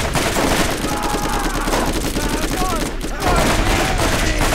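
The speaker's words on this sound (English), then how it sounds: "My gun has an effect of 2 fire." Rapid, dense gunfire from a fire-element weapon in the co-op shooter Borderlands 3 pours out continuously and loudly, with overlapping shots and explosive game effects throughout.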